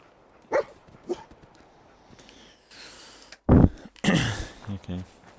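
Dogmeat, the dog companion in Fallout 4, lets out a few short, sharp barks and yips, scattered over quiet game ambience with a burst of louder in-game noise near the end.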